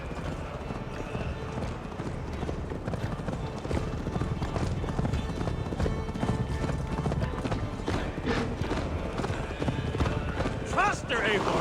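Rapid hoofbeats of a horse galloping continuously in Assassin's Creed Valhalla, with voices talking over it and a brief whinny near the end.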